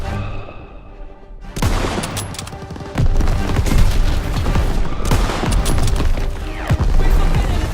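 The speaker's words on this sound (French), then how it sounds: "Daniel, tire dans les réserves de munitions des PAC 38" Rapid bursts of gunfire and explosions aimed at PAK 38 ammunition reserves in Call of Duty WWII, loud and dense with overlapping shots and booms continuing throughout.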